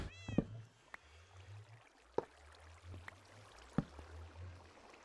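A cat meows in a video game, one rising meow near the start, followed by sharp clicks and a repeating low hum, all at a faint level with no speech.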